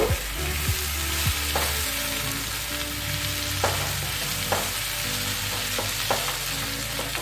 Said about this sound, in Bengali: আর সবশেষে আমি দিয়ে দিলাম একটু গরম মশলার গুঁড়া দিয়ে আমি একটু নাড়াচাড়া করে নেব